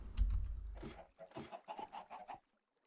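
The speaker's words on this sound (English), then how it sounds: "Past all the chickens." Minecraft chickens clucking in a short series of distinct, fairly close calls after a low rumbling start, heard alone without any talk.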